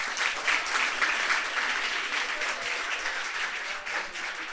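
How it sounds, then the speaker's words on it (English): An audience applauds participants from Croatian schools at a student finance panel, a dense, even wash of many hands clapping steadily throughout, fairly close and sustained with a slight fade toward the end. "Big round of applause for them."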